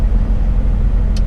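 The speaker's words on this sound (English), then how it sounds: "I'm finally running the engine" Diesel engine of a MAIT HR130 drill rig truck running steadily nearby, a dense low rumble with a continuous even drone and no talk.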